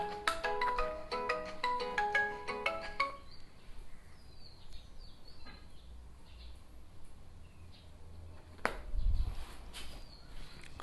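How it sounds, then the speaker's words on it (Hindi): A phone ringtone plays a bright melodic tune near the microphone during a chemistry lecture on isomerism, then cuts off after about three seconds, leaving quiet room noise and a brief thump. "1 मिनट, फोन आ रहा है, इसको हम साइलेंट कर देते हैं"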